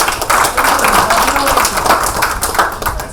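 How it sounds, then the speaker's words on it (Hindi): Audience clapping at a real estate training session, a steady dense patter of many hands that fills the room for the full stretch, with voices mixed in underneath. "जोरदार तालियां होना चाहिए।"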